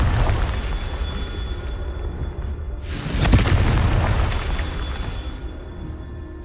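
A Confringo fire spell explodes in Hogwarts Legacy: a single loud, close boom swells and roars for a couple of seconds, then fades, heard over a low game background with no talking.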